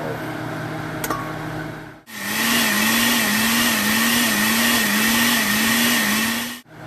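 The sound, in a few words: blender blending chile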